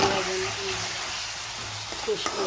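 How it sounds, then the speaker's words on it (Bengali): Chicken pieces frying in a pan with ginger, onion and garlic, a continuous hiss and crackle of sizzling oil, close by, with a voice talking over it and a few clinks of stirring. "একটু ভেজে নিচ্ছি মাংসটা।"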